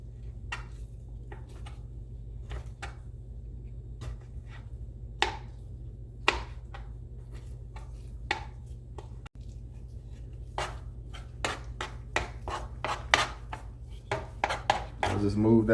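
Knife fine-chopping avocado on a cutting board, a run of crisp taps at first sparse and then quickening into a dense burst near the end, close and fairly quiet over a low steady hum.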